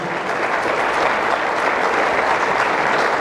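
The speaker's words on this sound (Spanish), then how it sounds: "Démosle un fuerte aplauso" A church congregation gives a long, loud round of applause to welcome visitors, dense steady clapping filling the room with no voices over it.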